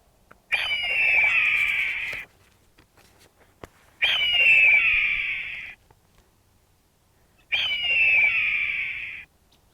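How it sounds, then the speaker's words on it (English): A red-tailed hawk gives three drawn-out, hoarse descending screams, evenly spaced with short quiet gaps, loud and clear against a still background. "And that's the sound of the red-tailed hawk."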